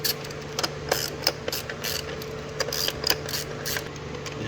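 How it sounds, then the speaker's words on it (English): 10mm socket ratchet with an extension loosening the coil pack bolts on a 2018 Honda Civic Si 1.5L turbo engine, with a rapid series of close metallic clicks in uneven bursts over a steady low hum. "using a 10mm socket with an extension, we're going to break these nuts loose here, or these bolts holding these coil packs"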